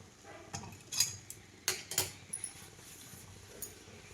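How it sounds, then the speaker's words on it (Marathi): A spoon clinking and scraping on a steel plate while ghee is spread across it in a home kitchen, a handful of sharp light metallic taps and scrapes spaced irregularly, close and quiet. "इथं मी हे ताट घेतलेलं आहे आणि ताटाला आता तूप लावून घेणार आहे."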